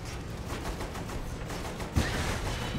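Tank in Saints Row The Third firing a beam weapon, a dense, crackling rumble of sustained fire with a sharper burst near the end, loud and continuous without speech.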